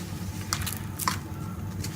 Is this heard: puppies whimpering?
no